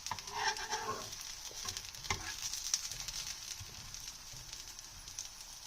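Sindhi-style hara bhara kebabs fry in a pan, giving a steady close sizzle and crackle with a few brief stirring or turning scrapes near the start.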